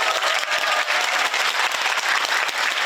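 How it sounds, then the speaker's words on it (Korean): An audience applauds at a political history talk concert, dense sustained clapping that fills the hall steadily and loudly. "박수!"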